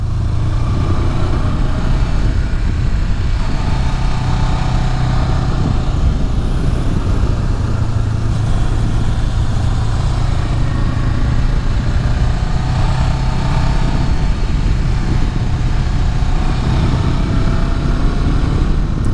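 A 2018 Honda CB500X motorcycle engine runs steadily while riding through curves on the Snake, a continuous loud drone with rushing wind noise throughout, no talking.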